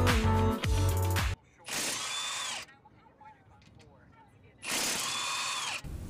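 Ratchet wrench loosening the 14mm brake caliper bolts on a 2004-2012 Mitsubishi Galant, with close, loud bursts of rapid clicking in three separate runs and quieter handling noise in the gaps.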